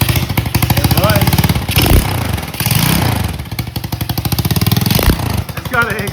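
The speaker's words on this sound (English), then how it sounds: "It's got an exhaust leak like crazy." A worn-out old motorcycle with a bad exhaust leak runs loud and close, its rough engine chuffing in rapid rhythmic pulses that dip briefly twice before picking back up, with people talking over it.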